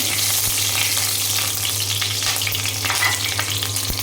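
Two bay leaves and two pieces of cinnamon sizzle loudly in hot oil in a wok, a dense and steady frying hiss that stays close for the whole stretch, with a low hum beneath it.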